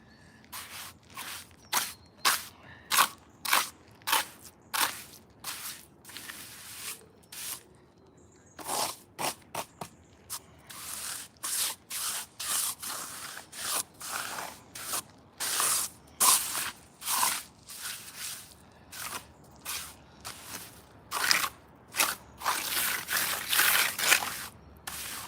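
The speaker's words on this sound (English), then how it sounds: "This is what you call plastering the courts." A clay tennis court surface being plastered, with repeated rhythmic scraping and swishing strokes of a tool across wet clay, close and fairly loud, coming in quick bursts with brief pauses and no talk.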